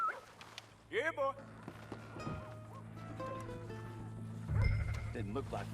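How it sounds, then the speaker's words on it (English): A dog in Red Dead Redemption 2 gives a few short yips and whimpers close by, with game sounds and voices talking over and around it. "That's a dog in there."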